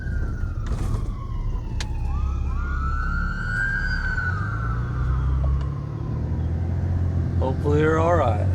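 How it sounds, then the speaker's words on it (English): An ambulance siren wails and sweeps past, rising and falling as it moves by, with road traffic rumbling underneath and a voice briefly near the end. "here comes an ambulance"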